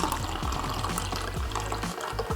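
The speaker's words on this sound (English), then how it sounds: "I'm gonna get it poured into a glass." Coffee from a Ninja coffee maker streams steadily into a glass, a close, continuous liquid splash and gurgle with no talking.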